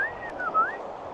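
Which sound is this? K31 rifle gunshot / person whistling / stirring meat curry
person whistling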